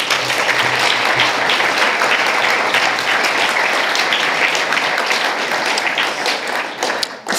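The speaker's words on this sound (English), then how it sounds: "Another round of applause for Professor Dodson." Sustained applause from a forum audience after a speech on First Nations governance, a loud, even roar of many hands clapping that holds for over seven seconds before tapering slightly at the end.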